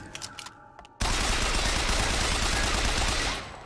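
Gunfire from the video game BioShock Infinite. After a brief quieter stretch, a loud, continuous burst of rapid shots erupts and holds steady before easing off slightly at the end.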